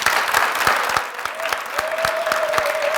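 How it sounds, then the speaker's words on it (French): A studio audience at a New Year's television show breaks into brisk applause, loud and close, with a dense patter of claps and a faint sustained tone running beneath. "Applaudissements pour vous, public"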